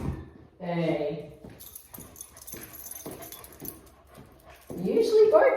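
A dog whimpers in high, brief whines, loudest near the end, while keys jangle softly and a person talks to it before a walk.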